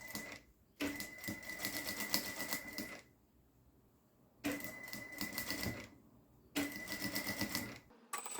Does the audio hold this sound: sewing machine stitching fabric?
yes